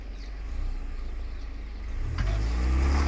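An off-road vehicle, a Land Rover Defender or Mahindra Thar 2020, drives over rocks on a rock-crawling trail, its engine idling low and then swelling into a louder, heavier growl as it pushes forward.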